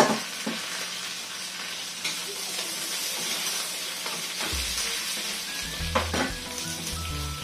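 Carrots and cabbage sizzle in a pan while being stir-fried for ginisang gulay with kikiam and squid balls: a steady, close frying hiss with occasional clinks and scrapes of stirring.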